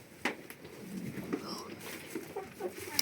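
Soft, scattered clucking from chickens close by, quiet against a faint background, with brief bird-like calls spread across the moment.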